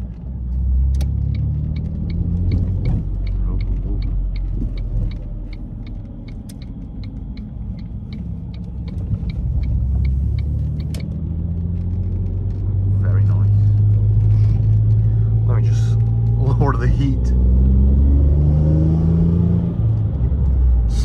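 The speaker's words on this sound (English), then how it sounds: "As you might have just heard the little sneak peek of the sound, this car is Decat, right? Catless, yep." A decat, catless Ford Mondeo ST220 with downpipes, driven at night: a steady, loud engine drone rising and falling in pitch as it revs, with a regular ticking and someone talking over it.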